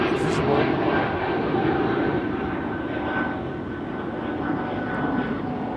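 Airplane at Amsterdam Schiphol Airport, a loud steady engine roar from a nearby landing aircraft that fades slightly over several seconds, with a voice talking underneath.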